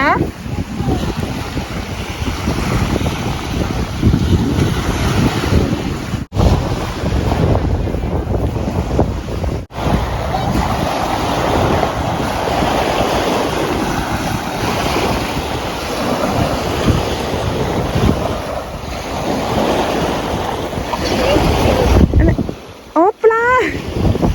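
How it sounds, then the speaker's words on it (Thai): Sea waves roll in at a beach while strong wind buffets the microphone, making a continuous loud roar and wash with a brief dropout near the end. "ก็เลยตื่นเต้นกับคลื่นทะเลเป็นพิเศษค่ะ"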